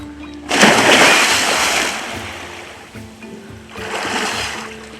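Water splashing and surging as a bloated alligator is caught, two broad bursts of churning splash, near and fairly loud, with faint background noise between them.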